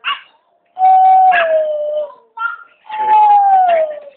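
A person imitates monkey sounds, making loud, drawn-out hooting wails that slide downward, in two long calls separated by short yelps.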